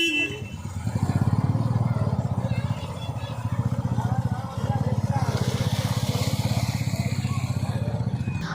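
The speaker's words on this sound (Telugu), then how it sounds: "బండి లేపు ఒకసారి సైలెన్సర్లోకి వెళ్ళి" A motorcycle engine is started and left running, a steady loud throbbing idle that carries on close by through the whole stretch with only slight dips in level.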